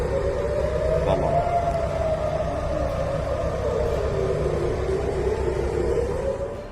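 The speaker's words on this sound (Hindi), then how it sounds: "जिसकी वजह से तेल अवीव में हवाई हमलों के सायरन बजने लगे" Air raid sirens wail across Tel Aviv, a continuous rising and falling tone carried over a steady low rumble, loud and sustained throughout with no speech.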